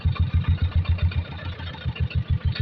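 Tractor engine chugging along a flooded residential lane, a steady rhythmic low thump of pulses, moderately close and running alone without talk.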